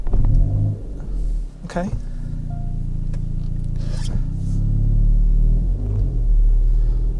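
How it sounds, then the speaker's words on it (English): A Hyundai i30N DCT fitted with Forge Motorsport intake parts idles with a steady, loud low rumble that swells slightly near the end, with a brief word spoken over it. "We can hear that intake straight away."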